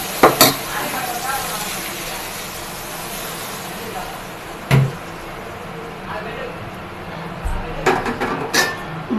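Appam batter meets a hot pan with a soft steady sizzle, broken by sharp clanks of a pan and utensil; someone talks over it nearby.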